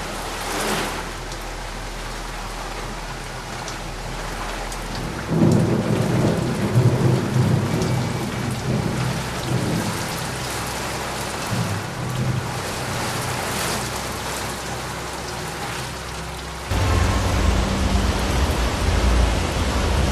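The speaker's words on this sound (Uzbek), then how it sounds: "Ko'pchilik yomg'ir shovqini insonni tinchlantirishi va stressni" Heavy rain pours steadily during a thunderstorm in Tashkent, with rolling thunder rumbling low and loud at several points and surging near the end; no one speaks.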